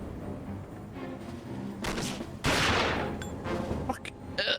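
Bursts of video game gunfire with heavy recoil, starting with scattered shots and swelling into a loud, close sustained volley, with a final sharp burst near the end.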